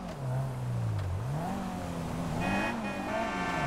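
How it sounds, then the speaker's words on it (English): Old-school Corvette in Grand Theft Auto 5, its engine revving up and down in a rising and falling drone, joined by a high tire squeal as it skids, close and continuous. "Old school Corvette."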